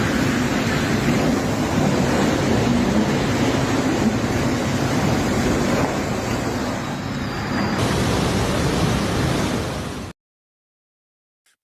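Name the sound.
ocean waves surging toward a bridge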